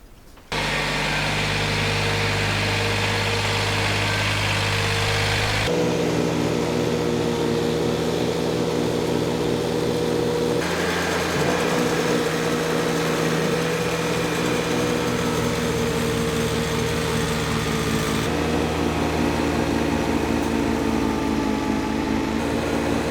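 A Kubota tractor engine runs steadily while clearing snow from a driveway. The close, loud drone holds throughout, with its pitch and load shifting a few times as the machine works and turns.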